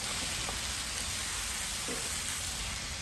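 Chopped tomatoes, mushrooms and onion fry on a Blackstone griddle, giving a steady, close hiss of broadband sizzle with a couple of faint scraping touches, no talking.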